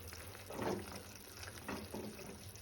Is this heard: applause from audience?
no